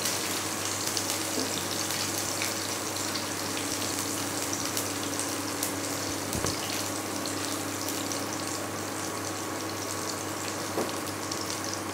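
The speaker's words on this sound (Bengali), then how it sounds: "লঙ্কা রসুন ভেজে নেবো একটু।" Chilies and garlic fry in hot oil in a home kitchen, giving a steady, even sizzle that continues without a break and has a single faint tap near the middle.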